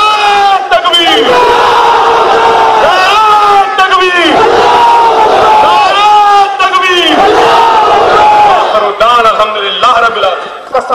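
A large crowd at an AIMIM election rally in Gujarat roars back in unison after a Takbir slogan call, repeated loud waves of chanting voices rising and falling in rhythm.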